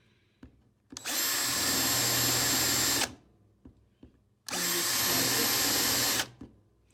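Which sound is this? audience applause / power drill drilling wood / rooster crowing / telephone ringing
power drill drilling wood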